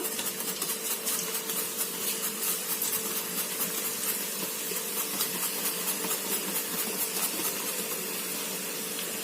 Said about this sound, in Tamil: இப்போ எண்ணெய் காஞ்சிருச்சுங்க இதில் வந்து பாருங்க தோல் சீவி வச்சுருக்காங்க நேந்திரக்காய் இப்போ இதுலேயே டைரெக்டாக நான் சீவி போடுறேங்க